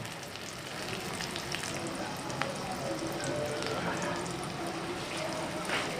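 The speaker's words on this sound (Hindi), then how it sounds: "प्याज ब्राउन होने तक हम इसको ऐसे ही चम्मच चलाते जाएंगे" Onions frying in a pan give off a steady, moderate sizzle while a spoon stirs through them, with faint scraping mixed into the continuous hiss.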